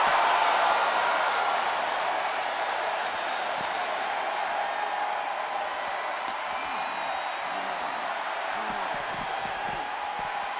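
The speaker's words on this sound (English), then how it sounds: "What a raucous crowd here tonight." A large wrestling arena crowd roars continuously, a loud wash of cheering and shouting that swells and fades with scattered voices.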